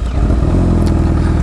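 Motorcycle engine running loud and close, a steady low rumble with a brief rising rev partway through, no talk over it.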